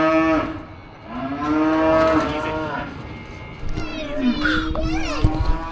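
Cattle on a farm moo several times at close range, long drawn-out calls overlapping, with children's voices and chatter in the background during feeding time.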